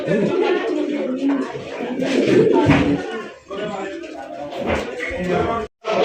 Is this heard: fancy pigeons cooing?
yes